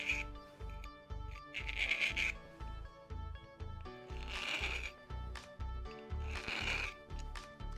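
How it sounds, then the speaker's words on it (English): Rhythmic rasping of a file drawn in long, light strokes to sharpen the cutting edge of an ice screw, several repeated scraping passes, close and steady, with background music beneath. "So to effectively sharpen the cutting edge, it takes long, light, and accurate strokes"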